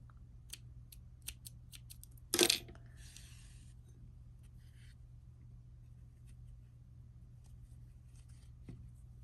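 Scissors snip through crochet yarn while making a tiny T-Rex, a single crisp cut near close range standing out against a quiet room with faint handling clicks.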